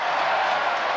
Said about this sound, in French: Très applaudi Chifo